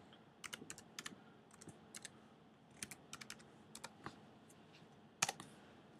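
Text typed into a search bar on a computer keyboard: short bursts of crisp, close key clicks separated by brief pauses, ending on one louder tap, with no talk.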